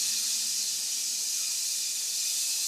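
A steady, airy hiss of forced breath expelling residual air from the lungs, as a breathing exercise for wind musicians, pushed out at length, continuous and fairly quiet with no pauses.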